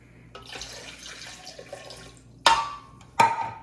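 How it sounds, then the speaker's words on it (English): Water poured into a food processor holding Italian sauce, a steady gentle stream followed by two sharp splashing bursts near the end, close and alone. "Now we add the water."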